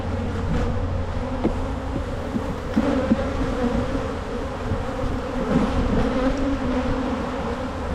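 Agitated honeybees swarm thickly around an open hive box during a walk-away split, their dense, continuous buzzing close and loud, with occasional louder passes as individual bees fly near.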